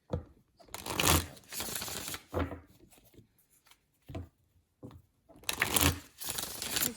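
Tarot cards shuffled by hand in quick riffling bursts, several close crisp rustling runs separated by short pauses and soft taps, with no talk.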